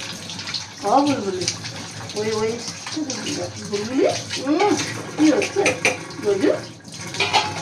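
A pet parrot splashes while bathing in water on a person's hair, giving steady wet fluttering and dripping noises with faint clinks, while people talk throughout.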